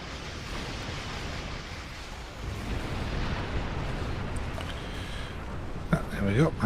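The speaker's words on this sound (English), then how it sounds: "it's not a good idea to get hit with a warp core explosion" A warp core explosion in the space game Star Trek Online, a sustained low rumbling roar that swells and lingers, with someone talking over it toward the end.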